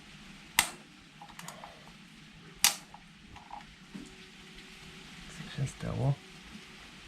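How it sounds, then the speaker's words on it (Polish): A long wrench snaps while loosening a bolt during a service on a Honda XL650V Transalp motorcycle, giving a sharp, loud crack and then a second crack in a quiet workshop. A voice then speaks briefly. "Ale ja, ja połamałem klucz."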